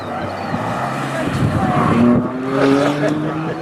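A BMW M car runs a hot lap on the track at the BMW Performance Center, its engine droning loud and steady with rising revs and faint tire squeal, while people talk faintly in the background.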